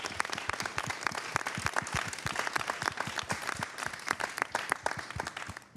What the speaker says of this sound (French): Ouais, on peut applaudir, je pense.